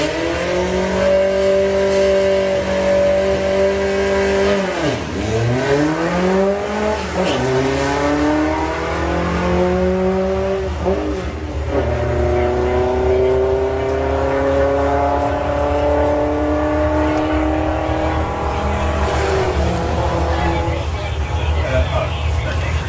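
A VW Sportsman drag car making a solo run at Santa Pod, its engine roaring loud and close with repeated rising revs and sharp dips at gear changes, and a commentator talking over it.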